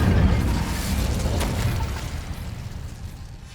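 An Incendio fire spell cast in the video game Hogwarts Legacy bursts out as a dense, roaring whoosh of flame that fades gradually over a few seconds.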